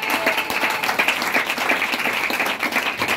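A congregation at a church service applauds and cheers, a loud, steady wash of many hands clapping with a rhythmic pulse and faint voices mixed in throughout.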